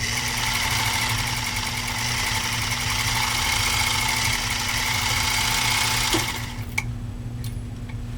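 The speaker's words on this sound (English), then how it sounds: "We're going to go ahead and stitch off 4 layers of US Army grade canvas." A Singer 99K sewing machine runs steadily while stitching through four layers of US Army grade canvas, giving a fast even whirring hum with a faint rhythmic clatter, then it stops with a couple of light clicks.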